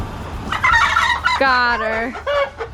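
A sick hen clucks and squawks loudly in rapid, agitated bursts as she is grabbed and caught, with a brief spoken remark from a person among the calls.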